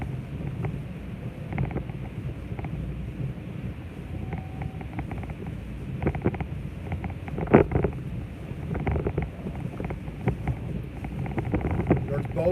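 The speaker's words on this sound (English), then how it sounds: "There's water splashing up to the right here on the road." Storm wind and water splashing up onto the road in Key Largo during damaging winds, a steady rough rush with wind buffeting the microphone and occasional sharper splashes, heard from a slowly moving vehicle.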